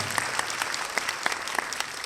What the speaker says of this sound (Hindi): तो भरपूर तालियां